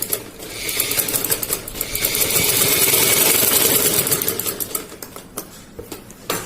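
A sewing machine stitches a salwar in rapid bursts of clattering needle strokes. The whir swells, runs steadily for a few seconds, then slows into short stop-start runs close by.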